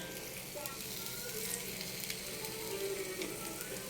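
Garlic sizzles steadily in a hot pan while cooking breakfast, a constant crackling hiss with no talk over it.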